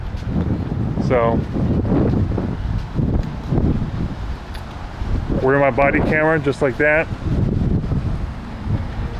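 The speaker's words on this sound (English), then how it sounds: "it's a very breezy day. You can hear it." Strong wind buffets a body-worn camera microphone on a breezy day in Orange, Ohio, a steady loud roar with gusts while someone talks over it.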